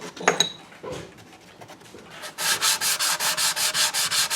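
Sand block rubbed back and forth on a German mantel clock part under repair, about nine steady rhythmic strokes close by, after a few light handling clicks.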